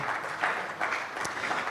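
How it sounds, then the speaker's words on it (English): An audience at an oil and gas roundtable claps for a panelist, a short, soft, fairly distant patter of applause with a few louder swells. "let's clap for him"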